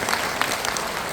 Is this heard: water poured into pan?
no